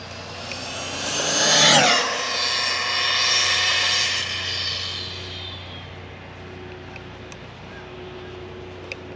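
A Castle 1512 2650kv motor drives an RC car geared in overdrive as it screams past at around 98 mph. The whine rises to a sharp peak at the pass, then fades away and trails off into steady background hiss.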